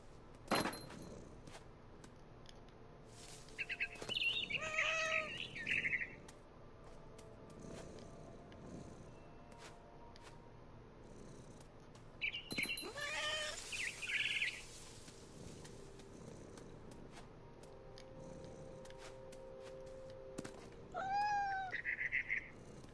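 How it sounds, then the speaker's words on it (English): Cat meows in the video game What Remains of Edith Finch, three separate quiet calls spaced across a soft background, with no speech. "I was a cat."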